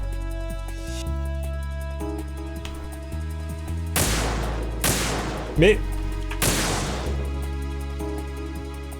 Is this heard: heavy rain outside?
no